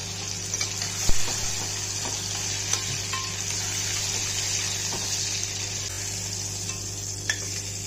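Hot oil sizzles steadily as tomato paste fries during cooking of a climbing fish curry, a constant close crackle with occasional clinks and stirring knocks and a low steady hum underneath.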